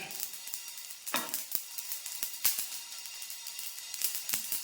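Asafoetida spluttering in hot sesame oil for a mango pickle, a steady close sizzle broken by sharp pops and crackles scattered irregularly throughout.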